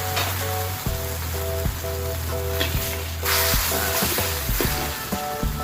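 Water added to a hot wok of stir-fried seafood noodles with mussels: a loud, continuous sizzle and bubbling, with a steady low hum and repeated clicks throughout.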